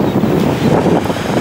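Strong coastal wind near Heiligenhafen batters the microphone in a steady, loud roar and rumble, with no voices heard.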